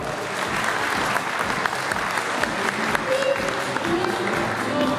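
Warm applause for the Sargsyan family at a church family celebration, a full, continuous clapping from a sizeable congregation, steady and fairly loud across the whole span with a little crowd murmur underneath.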